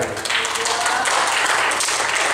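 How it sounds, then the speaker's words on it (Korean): Church congregation applauding together in a sustained wash of dense clapping that stays steady and loud throughout, with no talk over it. "우리 한번 좀 박수하겠습니다."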